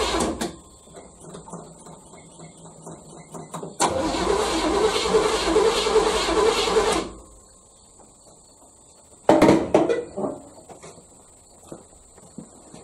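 A 1980 Chevrolet Malibu Landau, a barn find not run in years, cranks over for about three seconds without catching, the starter grinding loud and close, then a short second crank burst follows amid quiet pauses.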